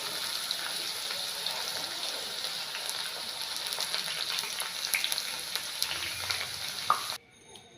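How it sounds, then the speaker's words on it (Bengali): Thin potato chip slices fry in a batch of hot oil, a dense, steady bubbling sizzle with small crackles close by, running for several seconds before cutting off abruptly; no voices. "তো একই রকমভাবে পরের ব্যাচটাও দিয়ে দিচ্ছি ওই তেলের মধ্যে"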